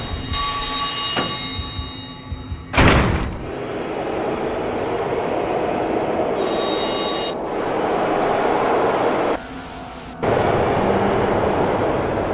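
Train yard ambience from the game Manhunt, with a steady low rumble of rail cars, a ringing bell-like tone, a sharp metallic clank, and a brief burst of hiss partway through.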